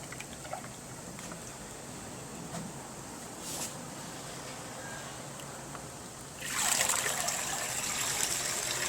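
Water drains out of a bonsai pot with multiple soldered holes: a quiet steady trickle with scattered drips, then a louder splashing rush near the end.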